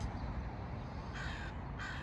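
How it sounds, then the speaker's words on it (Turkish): A large crow gives two short, rough caws from some distance on a street, faint above a constant background hum. "kargaya bak kocaman"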